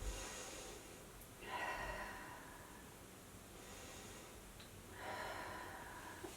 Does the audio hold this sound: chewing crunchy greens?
no